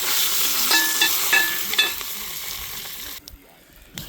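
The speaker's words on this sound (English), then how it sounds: "Get a bit of a sear on that lamb." Lamb pieces and onion sear in a cast-iron camp oven potjie pot over an open fire, giving a steady close sizzle with brief scraping stirs, fading near the end.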